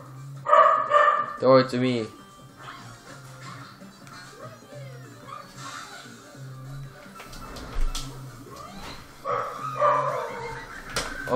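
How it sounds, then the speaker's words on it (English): A dog gives a few sharp barks and yips up close near the start, then scattered whimpers and barks follow under people talking. "More dog! Doggo!"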